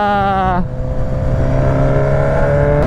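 A Porsche car engine sounds close by, with a high, tonal revving whine at first that drops after a moment into a steady, loud engine drone.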